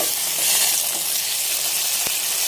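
Ginger garlic paste frying with onions in a pan for a cucumber masala curry, a steady close hiss and sizzle with faint stirring scrapes.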